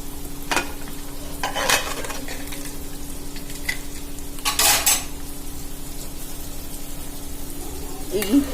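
Masala spices for rajma sizzling softly in a pan as a spoon scrapes and stirs, with a few clinks of metal against the cookware.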